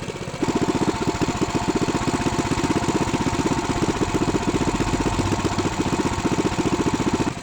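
A small 224cc engine idles steadily up close at about 1850 rpm, a loud, even rapid chugging that holds constant throughout with no voices.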